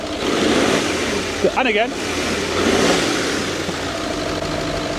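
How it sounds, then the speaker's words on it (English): A Range Rover engine with 200,000 miles runs and revs steadily, its rumble rising and falling, with a brief spoken remark partway through. "And the engine sounds pretty good. Go on, give it a rev."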